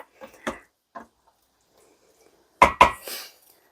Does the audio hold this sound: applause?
no